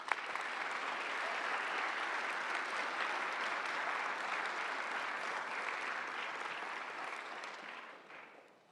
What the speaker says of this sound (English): I do want to give a round of applause right now